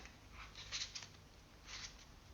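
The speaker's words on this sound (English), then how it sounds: "Just gonna cut the deck" A deck of playing cards being cut, giving a few soft, quiet riffling and slapping card sounds close by against a faint hiss.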